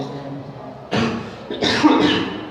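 Close coughing from an adult speaker during an indoor discussion session, a couple of harsh bursts with a short pause between them, a little voiced sound mixed in.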